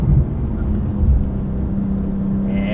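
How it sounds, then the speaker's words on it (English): Porsche 991 Turbo S engine dropping through a braking downshift, a loud close low rumble with a steady drone and a brief blip of revs, heard alone without talk. "We're gonna brake, downshift, and turn at the cone."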